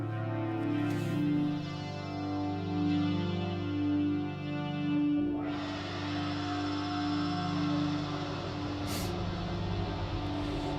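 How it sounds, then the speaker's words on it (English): Sustained tonal musical material passes through the Airwindows Rockstar Hall reverb plugin, a pure, clean, dry-hall sound with smooth lingering tails; the texture shifts about halfway through and continues steadily. "the Rockstar Hall reverb is very pure and clean."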